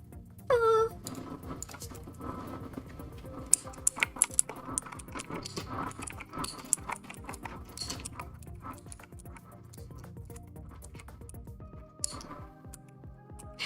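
Fast, light typing on a computer keyboard clatters in irregular bursts of clicks, with a few sharper key taps and a short high vocal squeal early on. The sounds stay fairly close and moderately quiet throughout.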